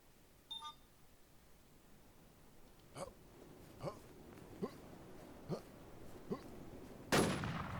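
In the online survival shooter Infestation, about six evenly spaced gunshots ring out at a moderate distance with a steady rhythm, with beeps early on and a louder burst at the end.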